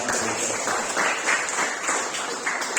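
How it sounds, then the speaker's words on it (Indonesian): Applause at a church New Year thanksgiving service in Takengon, with a group clapping steadily throughout for a child's correct answer about giraffes. "Kita tepuk tangan benar."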